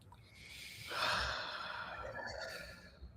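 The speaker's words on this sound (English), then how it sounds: "just close your eyes for a moment, take a deep breath" A slow, deep breath drawn in and let out during a guided relaxation moment, a soft airy inhale swelling near the one-second mark and easing into a long, gentle exhale, close and quiet with no talking.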